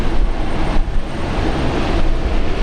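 An aircraft taxis back to the hangar at Brisbane Airport after engine run-ups, its steady, loud jet roar filling the air continuously, with heavy rain likely adding to the broadband wash.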